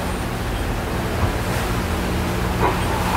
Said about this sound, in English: These waves are coming on to our starboard bow, so we'll be okay.